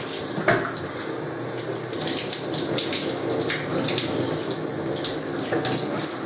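Lukewarm shower water runs in a continuous hissing spray while a pet lovebird is bathed, close and steady throughout with no talking.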